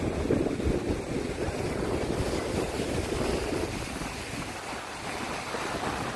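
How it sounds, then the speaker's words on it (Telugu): Ocean waves at Edward Elliot Beach near a seaside temple, a continuous broad roar of surf with wind rumbling against the microphone, steady and fairly loud throughout. "బయట నుండి ఆ అలల శబ్దాన్ని వింటూ చక్కగా ఎంజాయ్ అయితే చేయండి"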